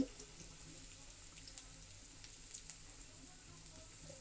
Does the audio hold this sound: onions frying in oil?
yes